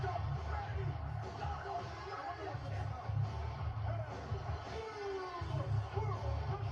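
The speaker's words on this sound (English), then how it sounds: "Listen to the crowd." Arena crowd at WrestleMania 17 roaring after Stone Cold's title win, a dense, steady wall of cheering and yelling voices with shouts rising out of it, loud and continuous throughout.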